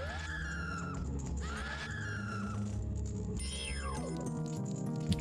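A zombie in a Majora's Mask rom hack video game lets out loud, shrill screeches that rise and fall in pitch, repeated several times over a low droning game background, with no talking.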